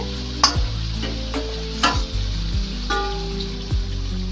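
Chicken pieces sizzle steadily in hot oil under repeated scraping and stirring clatters from a utensil in a pan, several sharp clinks spaced a second or so apart.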